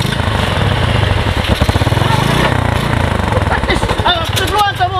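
A motorcycle engine runs close by throughout, a steady throbbing drone with revving pulses, while people talk over it near the end.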